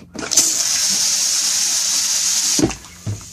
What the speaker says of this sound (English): Well, we get a good squirt of water through there.